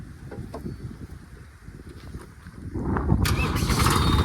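A diesel tractor engine cranks and catches, rising from a low idle rumble into a loud, steady roar that fills the last couple of seconds.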